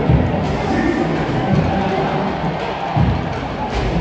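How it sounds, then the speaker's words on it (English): Football stadium crowd at Orlando City v New England Revolution, a steady roar of cheering and chanting with occasional thumps, continuous and full throughout. "this crowd tonight have just kept going and going and going"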